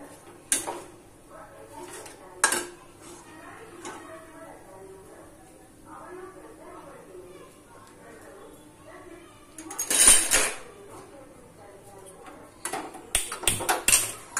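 Boiled potatoes are mixed in a pan for samosa filling, with intermittent clinks and scrapes of a utensil against metal, quiet between strikes, and a voice talking over the top.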